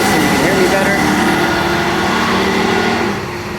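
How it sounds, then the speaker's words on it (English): A pump engine on an auto-start controller warming up at a set RPM, a steady mechanical hum and whir that holds constant, then drops slightly in level near the end, with a voice talking faintly underneath. "So as that goes up, gets a signal, you hear that pump come on."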